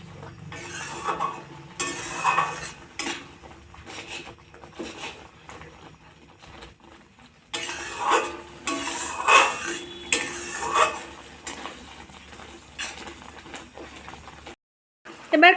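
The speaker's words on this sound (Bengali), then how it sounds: "গুড়টা দেওয়ার পর আমি আবারও 2-3 মিনিট এভাবে নাড়তে থাকবো।" Tomato chutney being stirred in a pan after jaggery goes in: irregular scraping and clattering of a spoon against metal, in bursts with a brief pause midway, fairly close with light background noise and no speech.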